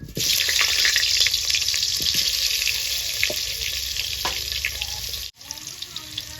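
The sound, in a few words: frying potatoes in a clay pot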